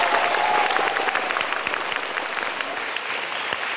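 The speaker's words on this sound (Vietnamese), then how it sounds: "Một tràng vỗ tay cho bố của Quang Huy ạ." A quiz-show studio audience claps steadily for a contestant's father on the Vietnamese Olympia program, the applause dense and even throughout before slowly thinning.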